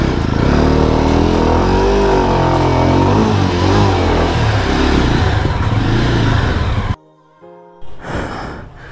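Motorcycles, Jawa bikes among them, are parked inside a hotel in Nepal, their engines loud and close, rumbling and revving steadily for several seconds before cutting off, followed by brief quieter shuffling.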